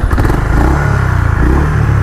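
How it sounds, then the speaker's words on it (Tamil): A 2025 Honda Hness CB350 single-cylinder motorcycle idling close by, a loud, deep, evenly pulsing thump with a faint mechanical clatter and no talking. "நல்ல ஒரு பீட் இருக்கக்கூடிய ஒரு பைக்கு."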